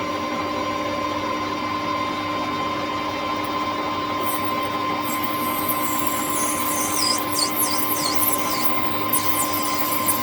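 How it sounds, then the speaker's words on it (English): A power tool deburring the edges of a metal part for a Harley-Davidson Road King chopper build runs steadily with a constant whine, and sharper high-pitched grinding squeals break in over the second half. "It's not deburring as nicely as I'd like."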